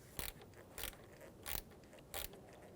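Four short, evenly spaced bursts of ratchet clicking as valve cover bolts are snugged down on a 2004-2009 Audi A4 Quattro 2.0L four-cylinder engine, close but fairly quiet.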